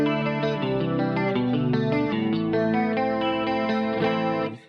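Electric guitar played with a clean tone through an amp with reverb, chords and notes ringing continuously at close range and fairly loud, fading out at the very end.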